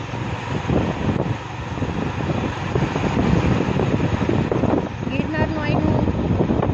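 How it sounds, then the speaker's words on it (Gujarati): A cool breeze blows steadily at the foot of a hill, rushing and buffeting against the microphone in a continuous roar, with a faint voice briefly audible near the end. "એકદમ સરસ ઠંડો પવન આવે છે."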